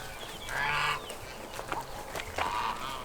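Geese honk in a few scattered bursts, moderately close, over a steady outdoor background hum.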